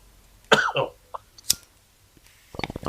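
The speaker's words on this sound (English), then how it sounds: "I can hear you coughing from smoking the weed." A harsh cough or throat-clearing rasp sounds up close, followed by scattered clicks and a brief flurry of small knocking noises.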